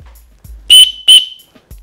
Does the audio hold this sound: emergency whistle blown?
yes